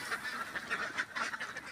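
Laying ducks quacking at feeding time, a brief, faint flurry of overlapping nasal calls from several birds with no talking.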